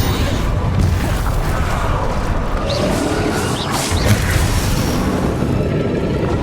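Spell-blast explosions from the Bombarda and Confringo curses in Hogwarts Legacy, heard as dense rumbling booms and crashes that fill the whole stretch at steady loudness, with no clear pauses between them.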